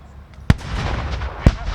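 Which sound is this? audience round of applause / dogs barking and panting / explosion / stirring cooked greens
explosion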